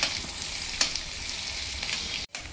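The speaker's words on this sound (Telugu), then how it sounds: "ఉల్లిపాయ పచ్చిమిరకాయ లైట్గా వేగింది కదండి" Chopped onion and green chili fry lightly in oil for a ginger chili potato fry, giving a continuous, even sizzle up close with a brief dropout near the end.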